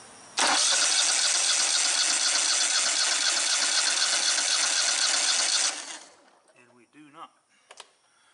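A Kohler Command twin-cylinder engine cranked over by its starter with a spark tester on cylinder one, giving a loud, steady mechanical whir for about five seconds that stops abruptly, followed by faint clicks and brief talk.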